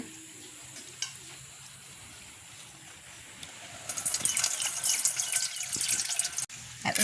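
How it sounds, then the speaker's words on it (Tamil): Parboiled rice washed by hand in water, first quiet faint dribbles and sloshes, then a steady close splashing and swirling of water that continues to the end. "நாங்கள் நல்ல வடிவாக கழுவி எடுப்போம் அரிசியை."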